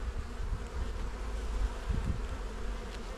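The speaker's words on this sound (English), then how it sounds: "there are a ton of bees in here" Honey bees buzz in a crowded hive during a colony inspection, a dense, steady, close hum with no voices.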